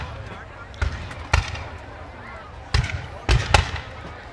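Gunfire during an outdoor battle reenactment at Scarva, with sword fighting on a field: five sharp, irregular reports at moderate distance, some in quick pairs, over a steady murmur of crowd and voices.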